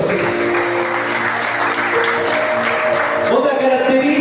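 Steady applause from a church congregation filling the whole stretch, with a sustained tone humming underneath and a brief vocal swell near the end.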